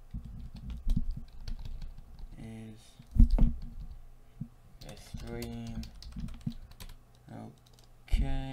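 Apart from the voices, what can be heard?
typing on a computer keyboard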